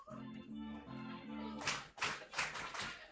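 At a minor-league baseball game between the Olean Oilers and Batavia Muckdogs, a short repeating musical phrase gives way to the crowd clapping in loud rhythmic bursts.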